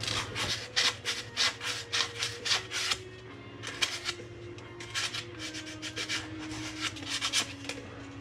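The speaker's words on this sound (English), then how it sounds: "I'll just take a piece of sandpaper and sand it off a little." A wooden winch handle's edges are sanded by hand with sandpaper, giving close, rhythmic rasping strokes in quick repeated bursts over a low steady hum.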